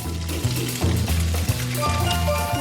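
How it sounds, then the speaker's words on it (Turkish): Sausage frying in a pan, a close, steady sizzle with small pops and a low, pulsing rumble underneath, heard alone without talk. "Bunun için tavada onu kızartmalıyım."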